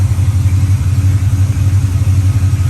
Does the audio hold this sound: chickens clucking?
no